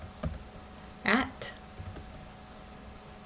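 A computer keyboard is typed on while entering text in Word 2013, giving a few quiet, scattered key clicks against low background hum, with a brief spoken word.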